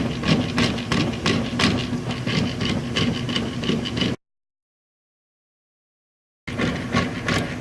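Clothes washer that won't agitate because of worn cogs in its clutch assembly, giving a loud, continuous rapid clattering and grinding rattle with a rhythmic mechanical knock, broken by a few seconds of silence before it resumes.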